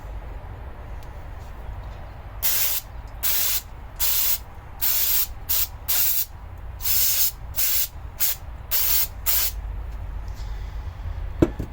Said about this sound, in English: Make sure you're using carburetor cleaner in a well-ventilated area